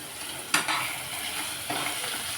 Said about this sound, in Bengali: আলুগুলো মোটামুটি ভাজা হয়েছে